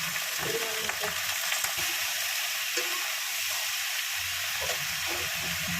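A curry of brinjal, potato, tomato, spring onion, green chilies, salt and turmeric fries in a pan with a close, continuous sizzle, while occasional stirring scrapes sound underneath.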